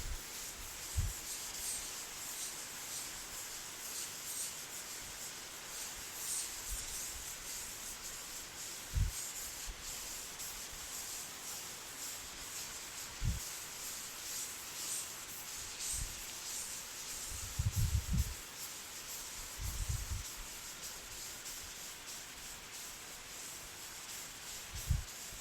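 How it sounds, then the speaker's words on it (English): A board being erased during a physics lesson, giving a steady soft rubbing hiss with scattered brief low knocks and scuffs, fairly quiet and continuous with no talk. "So let me erase this."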